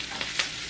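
Onions cooking in a frying pan give off a brief, soft sizzling hiss with one small stir sound, heard up close for under a second and without voices.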